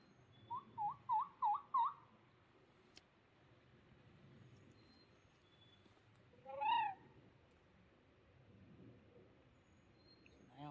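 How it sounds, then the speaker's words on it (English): An owl calls outdoors on a snowy spring turkey-hunting morning in Virginia. A quick run of five hooting notes opens the stretch, then a single louder hoot comes later, with faint background noise between them. "It's an owl, ain't it? Oh, that's an owl, not so far freaking away."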